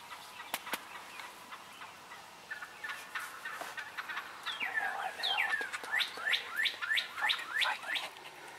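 A wild turkey gobbles in a rapid rattling burst, nearby and clear, after a few softer clucks and calls.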